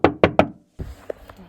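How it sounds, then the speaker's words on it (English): Three loud, sharp knocks strike the sliding door glass of a parked van at night in a national forest, evenly spaced and close, followed by faint rustling and small thumps. "3 loud knocks right at my sliding door glass"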